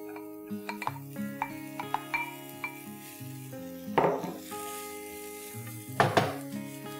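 Cut radish and its leaves stir-fry in sunflower oil, with a soft sizzle under two louder scraping mixes of a utensil in the pan, while gentle background music plays throughout.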